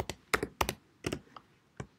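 Quick keystrokes on a computer keyboard come in small clusters of sharp clicks with short pauses between, close and clear, while a page of text is being typed.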